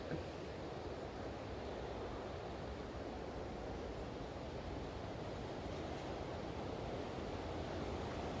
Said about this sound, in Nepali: हेर्नु त माथि हेर्नु त सेकेन्ड झर्ना हेर्नु